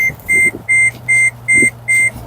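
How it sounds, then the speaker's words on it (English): A car's warning chime beeps in a steady, evenly spaced series of six sharp electronic tones inside the cabin, set off by cargo on the passenger seat, over low road and engine hum. "excuse the beeping, it'll stop in a second. It thinks that somebody is in my passenger seat"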